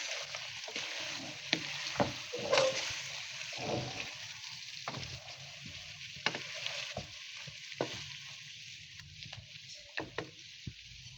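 Spoon stirring and mixing Balochi chicken tikka masala with coarsely ground spices in a pan, a steady soft sizzle with irregular scraping and knocking close by, no speech.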